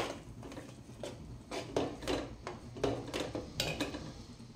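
Ghee being stirred in a pot with drumstick leaves, giving a run of scraping, clinking strokes of the spoon against metal, repeated at an uneven rhythm over a low simmering rumble.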